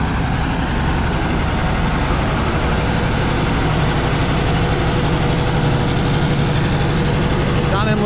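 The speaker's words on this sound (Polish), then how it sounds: "na wolnych obrotach, żeby od razu silnik nie dostał w palnik na wysokich, gdy jest niezagrzany" A Bizon Rekord combine harvester's heavy diesel engine idles steadily at low revs while warming up, a constant deep rumble that fills the whole clip without change.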